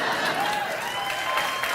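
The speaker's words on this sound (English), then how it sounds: "Don't applaud this elaborate lie." A late-night talk show studio audience claps in a brief, steady wash of applause, with a voice talking over it.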